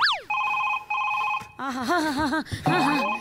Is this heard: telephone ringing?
yes